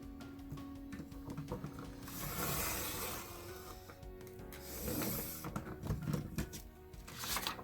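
Paper trimmer slicing cardstock strips for a holiday scrapbook page: close mechanical sliding and clicking as the blade runs along, with two louder cutting passes, no talk.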